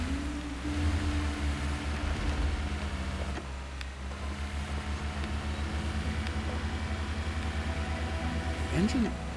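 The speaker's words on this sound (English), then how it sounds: "Engine, it's a little too soft and soothing." A truck engine in the snowy off-road driving game Running the Snow hums at a low, steady idle-like drone, soft and even throughout, with someone talking over it.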